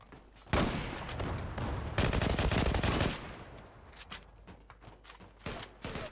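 AK rifle fire in the online shooter Zula, with loud rapid automatic bursts in two long runs followed by scattered single shots and clatter, close up and with no talking.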